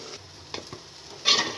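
Rice for pulao fries in a pan with green chillies, a close sizzle with scraping stir strokes and a louder crackling burst near the end, no voices.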